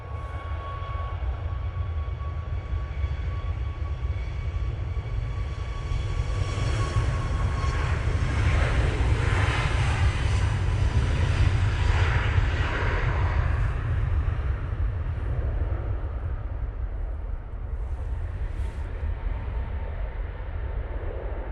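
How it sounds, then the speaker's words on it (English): Boeing 737 MAX 8 departing Manchester Airport for Madeira Funchal, a steady loud jet engine roar with broadband rumble that holds constant throughout, no talk. "Off to Madeira Funchal, we'll be going with this 737 MAX 8."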